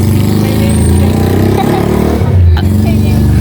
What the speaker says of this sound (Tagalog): maingay po yung tricycle